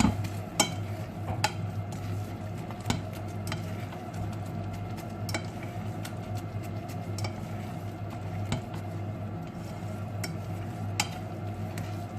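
Onions for a traditional Swedish onion sauce stirred in a pan with a fork: scattered light taps and scrapes against the pan over a soft, steady sizzle and low hum, close but faint.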